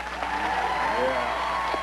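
A talk-show guest on The Tonight Show with Jay Leno applauds their own clip, giving a short burst of steady clapping before a studio audience, fairly soft and with a voice audible faintly underneath.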